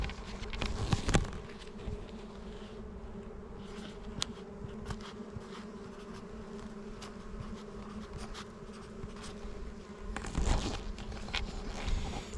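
Honeybee colony humming steadily at an open hive, a continuous mid-pitched drone with a few louder passes near the start and end as bees fly close.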